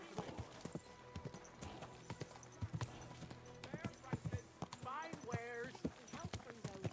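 In the video game Kingdom Come Deliverance II, a horse's hooves clip-clop in a steady walking rhythm on hard ground, close by, while a voice talks over the hoofbeats.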